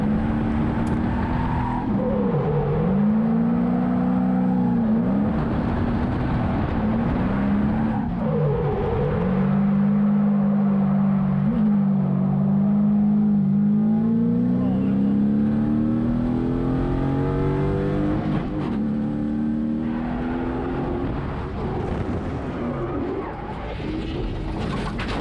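A drift car on a race track in Slovenia revs hard and holds sustained engine howls that rise and fall in pitch, with occasional tyre skid, loud and continuous without talk.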